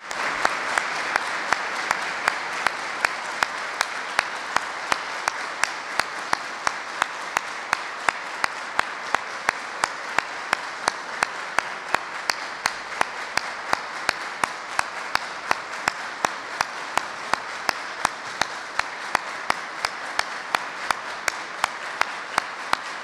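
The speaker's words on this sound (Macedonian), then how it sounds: "да со едноминутен аплауз им одадеме почит на" An audience at a commemorative gathering in Kavadarci gives a sustained minute-long round of applause, with dense, even clapping and sharp individual claps standing out steadily throughout.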